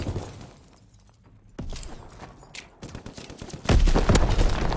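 Gunfire in Call of Duty WWII, including a shotgun, quiet at first, then a sudden loud burst of shots and impacts followed by heavier close rapid firing toward the end.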